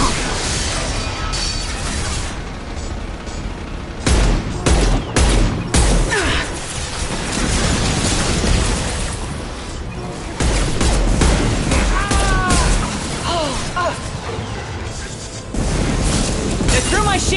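Gunfire in Mass Effect 2 as an enemy is shot down: heavy booming shots and bursts layered over a steady roar of combat noise, with louder impacts recurring throughout.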